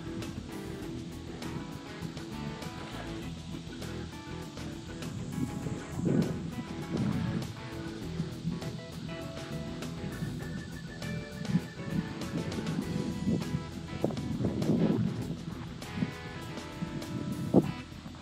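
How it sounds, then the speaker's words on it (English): Strong gusty wind buffets the microphone outdoors while a Prism Tantrum 250 power kite is flown, a steady roaring rush that swells into louder gusts around the middle and toward the end, with no talking. "much stronger wind at the moment"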